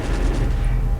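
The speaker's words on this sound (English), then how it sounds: "Oh, mortars exploding." Mortar shells explode in the Company of Heroes strategy game as a dense, rumbling boom of battle fills a single loud second.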